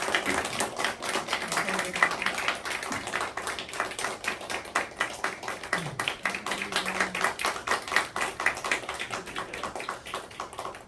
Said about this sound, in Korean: 크게 박수하겠습니다.